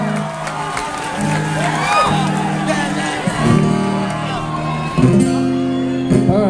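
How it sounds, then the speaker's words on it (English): Concert crowd at an encore shouts, whoops and cheers, with applause underneath, loud and continuous, while a voice carries over the noise. "Please, for yourselves, a round of applause."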